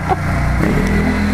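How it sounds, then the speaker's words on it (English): A motorcycle engine rumbles steadily nearby with a low, continuous drone, loud and close, with no voices over it. "He saw the camera and did a wheelie back there, but I missed it."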